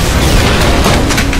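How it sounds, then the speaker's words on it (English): Massive explosion in Saints Row IV, a loud, dense rumbling boom that fills the moment and rolls on without a break. "This massive explosion barely does any damage."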